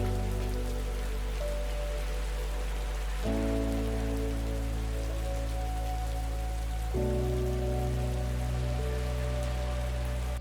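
Rain pattering steadily on the Panama rainforest canopy, a soft continuous hiss with layered tonal hums shifting underneath, moderately faint.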